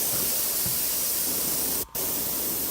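Steady hissing spray of an airbrush spraying black paint, close and continuous, with one brief break near the end.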